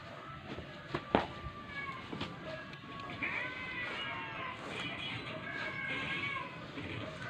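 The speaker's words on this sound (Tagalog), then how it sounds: "narinig niyong miyaw, pusa lang po namin yun, si Dalaw." A pet cat meows indoors at night, a few faint drawn-out meows under a steady hissing background with some soft knocks.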